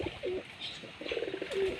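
Repeated soft pigeon coos, three or four short murmuring calls spaced across a couple of seconds, close and moderately loud over a faint background hiss.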